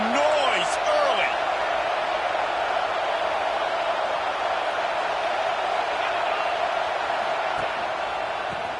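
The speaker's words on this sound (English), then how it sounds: "This crowd bringing the energy and noise early." A football stadium crowd roars as a steady, broad wash of noise, with a commentator talking over it and a brief whistle-like tone near the start.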